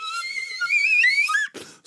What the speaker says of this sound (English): I had a request for more slide whistle.